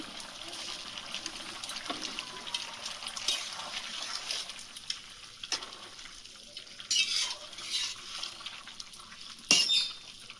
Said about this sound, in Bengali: এবার চিংড়িগুলো দিয়ে দিচ্ছি।